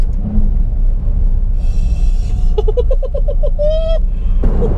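Ferrari F12 TDF V12 engine revs up in a quick series of sharp pulsing bursts, then rises into a climbing wail. It sounds close and loud over a constant low road rumble.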